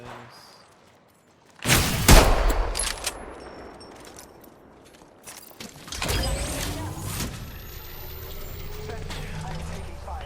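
Gunfire from the shooter game Apex Legends comes as a loud, sudden volley and a second burst a few seconds later, with a rattling tail that fades slowly. Players talk over the action.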